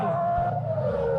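Senna's race car at speed, a loud steady engine drone with a sustained high whine, slightly shifting pitch, heard close from the car itself.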